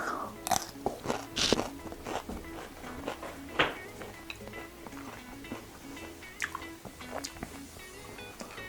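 Close, crunchy bites into a fresh Chiltepin x Lemon Drop chili pepper, followed by wet chewing, a few distinct crisp snaps early and softer juicy mastication after, no talk.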